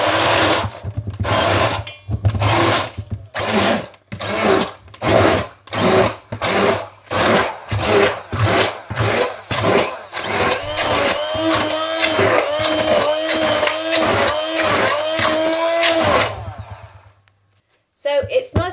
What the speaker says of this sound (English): blend it to a finer puree with my hand blender